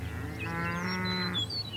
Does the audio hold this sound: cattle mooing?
yes